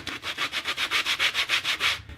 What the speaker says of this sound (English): for hand sanding, I've got a little hand sanding block here.